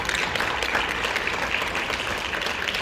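Audience applause at a Los Angeles County Board of Supervisors meeting, a steady even wash of many hands clapping throughout with no voices on top.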